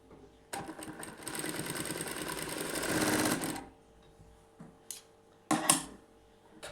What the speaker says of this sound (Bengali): দেখুন সেলাই করে নিচ্ছি।